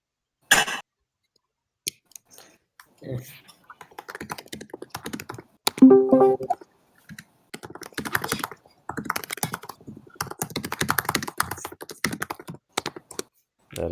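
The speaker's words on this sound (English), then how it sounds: "That is some mighty fast typing going on there." Fast typing on a computer keyboard, close and crisp, with rapid irregular bursts of key clicks separated by short pauses and one louder clattering flurry midway.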